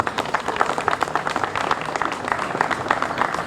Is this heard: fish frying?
no